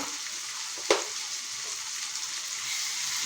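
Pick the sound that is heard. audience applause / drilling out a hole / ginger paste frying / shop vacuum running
ginger paste frying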